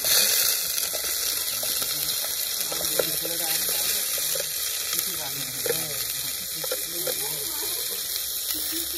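Onions fry in a pan during home cooking in Badichor, giving a steady sizzle with faint stirring and clinks underneath, while people talk quietly over the hiss.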